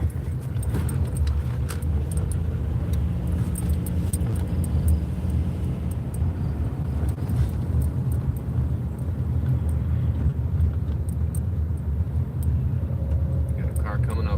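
Steady, loud wind roar buffets a car's open window while a dog named Zooey leans her head out, with a rumbling engine beneath and scattered jangling clicks throughout.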